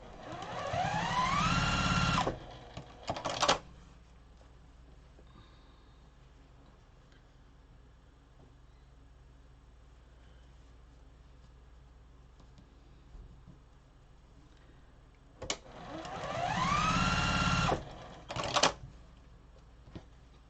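A sewing machine stitches fabric in two bursts of fast, rapid ticking, each a couple of seconds long, separated by a long quiet stretch.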